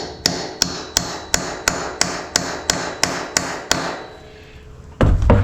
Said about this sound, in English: we're just going to hammer it on there.